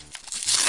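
Foil card pack from a Pokémon Mega Latios Collection being torn open, a quick close crinkling rip that builds into a louder tear at the end.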